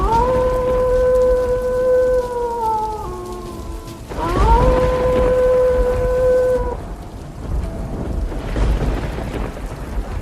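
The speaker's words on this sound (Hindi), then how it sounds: "बारिश तो पहले से भी तेज हो गई है।" Steady heavy rain hisses throughout, overlaid with sustained, droning tones that shift and fade in and out.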